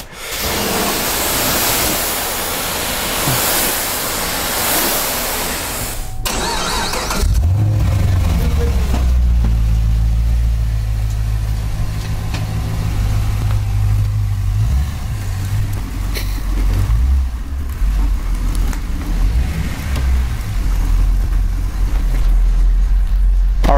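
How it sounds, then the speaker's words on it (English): Hose water rinsing soap off a car: a hissing spray at first, then a loud low rumbling roar of running water and machinery that continues steadily to the end. "we are actually going to rinse the soap off of the car now"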